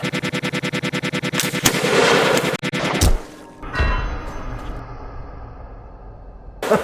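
Rapid gunfire fired downrange at a shooting range: a fast burst of repeated loud shots for about three seconds, then a single sharp report and a fading ringing tail, with no talking.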